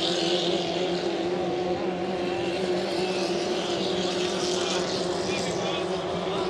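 Racing hydroplane boats of the 2.5 litre class roar on the final lap of a qualifying heat at Valleyfield, a steady loud engine drone throughout with a commentator's voice running underneath.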